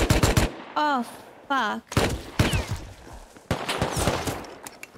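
Automatic turret gunfire in the video game Rust, rapid bursts of close, loud shots with short gaps between them, while a voice cries out briefly in between.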